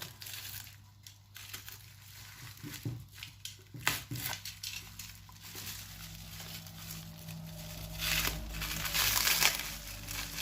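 Parcel packaging holding a terrarium is torn open, with irregular crinkling and crushing of plastic and paper, close and moderately loud, rustling in uneven bursts without talk.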